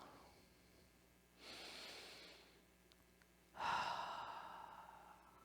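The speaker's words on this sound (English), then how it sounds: "And breathing deeper still." Two slow, deep breaths come close and soft, each a long airy exhale, with a quiet pause between them and no talking.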